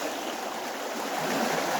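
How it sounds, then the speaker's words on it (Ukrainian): Rising floodwater bubbling and gurgling vigorously like a washing machine, a steady broadband rush and churn close by, continuous and fairly loud throughout with no voices. "Ой, аж бурлить"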